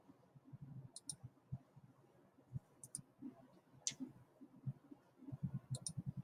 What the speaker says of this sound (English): I'm going to click over here on the right and paste it.